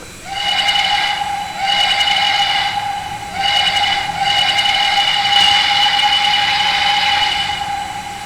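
A PRR I1sa 2-10-0 steam locomotive in Trainz 2019 sounds its Banshee whistle: breathy, airy blasts with a faint high-pitched tone inside, three long sustained soundings with brief dips between, loud and close, no talking.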